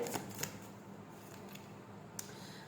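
Tarot cards being shuffled and drawn, a few soft close riffles and flicks of card stock spaced out over a quiet background, with no talking.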